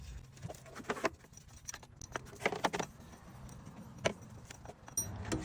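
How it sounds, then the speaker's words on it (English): Pulley bolts on a 2004 Nissan Titan being worked out by hand during a water pump replacement, heard as scattered light metallic clinks and rattles, close and fairly quiet, with no talking. "Now I'm just gonna work these bolts out by hand."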